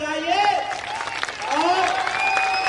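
A crowd at an outdoor political rally applauds, a dense wash of clapping mixed with loud shouting and cheering voices, close and continuous throughout.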